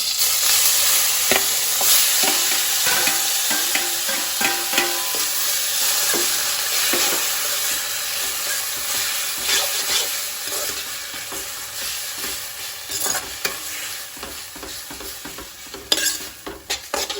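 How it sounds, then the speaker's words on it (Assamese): Maggi noodles fry in hot mustard oil with a loud, continuous sizzle and frequent close scraping stirs of a spatula against the pan, without speech. "এতিয়া মই মেগীখিনি যিখিনি আছিলে সেইখিনিতে ফ্ৰাই কৰিম"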